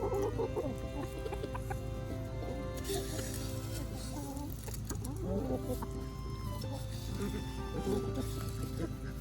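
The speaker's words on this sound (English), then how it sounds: "that's two hens fighting at it" Several hens clucking and squawking in an agitated scuffle, a busy chorus of fowl sounds close by with a steady background hum.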